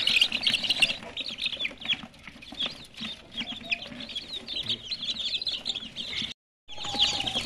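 Aseel breed chickens cluck and chirp continuously at feeding time, a busy close-up flock chorus with a brief drop to silence near the end.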